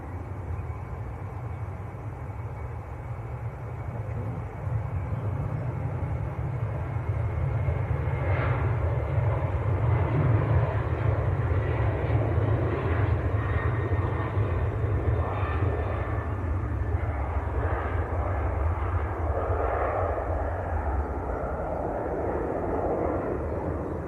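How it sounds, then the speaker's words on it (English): TUI Boeing 737-800 at Manchester Airport, a steady, loud jet engine roar sustained throughout with a broad low rumble and no talking. "TUI to Fuerteventura. Every aircraft seems to be going to the Canaries. 737-800."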